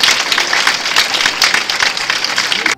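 An audience in a studio at a Nigerian television quiz show breaks into dense applause, many hands clapping loudly and continuously for nearly three seconds before cutting off abruptly.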